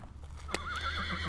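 A horse gives a single short whinny with a wavering tone, fairly faint, over a low steady hum and no talk.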